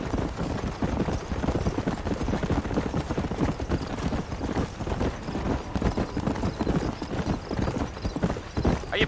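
Horse hooves clip-clop in a steady, rhythmic gait in the Red Dead Redemption video game, close and continuous with no talking.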